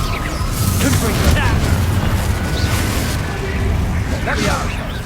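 Confringo blasting spell going off in the Hogwarts Legacy video game, a dense booming burst with crackling debris and whooshes that fill the whole stretch, loud and close, over a steady game backdrop.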